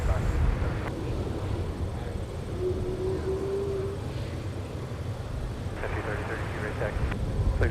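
A charter airplane taxis across the tarmac at Minneapolis–St. Paul airport, its engines producing a steady, broad roar with a brief whining tone partway through. The noise stays continuous and moderately loud throughout.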